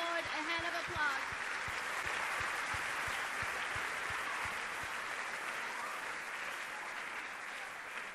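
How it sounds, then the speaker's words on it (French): A church congregation gives the Lord a sustained round of applause, steady rhythmic clapping heard at a distance, with a brief voice at the start. "Please let, give the Lord a hand of applause."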